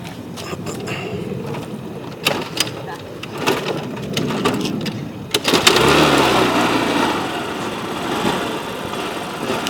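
A small engine fitted with a capacitor start system is kick-started: several sharp mechanical thumps and clatter, then the engine catches around the middle and settles into a steady loud running drone.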